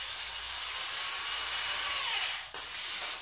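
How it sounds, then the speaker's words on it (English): A drill whines steadily as it bores into the plastic tubing of an LED hula hoop, a high continuous grinding that briefly dips near the end, then resumes, close and loud. "Don't drill all the way through."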